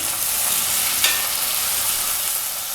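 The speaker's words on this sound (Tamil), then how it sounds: "இப்போ தக்காளியையும் நல்லா வதக்கிடலாம்" Tomatoes sizzle and hiss loudly in a pan while being sautéed for a crab kurma, an even frying sound with a sharp utensil clack partway through.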